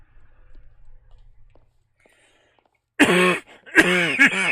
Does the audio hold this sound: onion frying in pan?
no